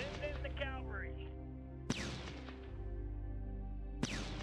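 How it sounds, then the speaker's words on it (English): Two sharp, booming tank shots from the strategy game Shadow Empire ring out about two seconds apart and decay slowly over background music, with a voice speaking at the start. "But we're going to attack with the tanks over here."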